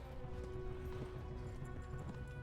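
A horse galloping in the medieval video game Kingdom Come: Deliverance, rapid clip-clop hoofbeats running continuously under a steady background bed.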